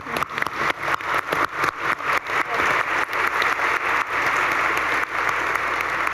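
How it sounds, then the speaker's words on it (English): An audience at a regional luncheon applauds panelists Anne, Aaron and Angela, a dense, steady clapping that swells in bursts and holds full for about six seconds with no voices over it. "our A-team, a round of applause"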